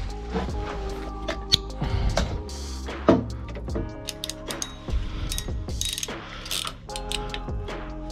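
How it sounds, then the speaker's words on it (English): A ratchet wrench clicks repeatedly while tightening connection bolts in a three-phase MEM busbar chamber, an uneven series of close metallic ratcheting strokes and clanks with no talking. "Get that torqued up in a sec."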